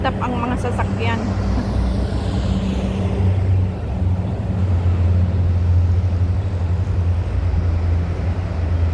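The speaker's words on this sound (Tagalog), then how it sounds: "Non-stop ang mga sasakyan." Continuous road traffic of passing cars near a zoological and botanical garden, a steady low rumble with engine hum and swells of passing vehicles, under someone speaking at the start.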